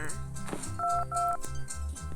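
Electronic tones from a mobile phone being played with, a series of short bright beeps and paired held tones in an irregular sequence over a low background hum, close and fairly loud.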